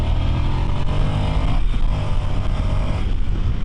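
A motorcycle engine holds a steady, loud drone with the throttle kept open through a corner, its low tone continuous and slightly wavering with no break in power.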